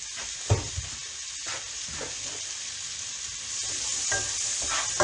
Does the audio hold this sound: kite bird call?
no